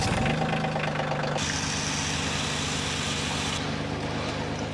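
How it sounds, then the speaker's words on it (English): A tractor engine used for hillside logging cranks and catches, then settles into a steady, moderately loud idle with a low rhythmic chug. "I'm going to start the tractor up so I don't drain my battery."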